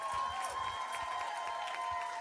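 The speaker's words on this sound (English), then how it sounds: "A huge round of applause for these contestants." Audience at a pageant applauds and cheers the contestants in a steady, sustained wash of clapping, with a tonal music bed and a few low thumps underneath.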